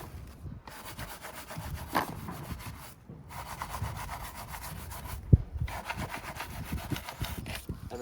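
Stiff brush scrubbing foamy car wheel barrels on a car left sitting for a year: steady close rubbing and scraping strokes with a couple of sharp knocks, no talking.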